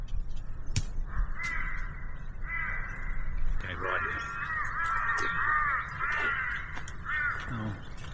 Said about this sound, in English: Oh, you've got some birds, have you?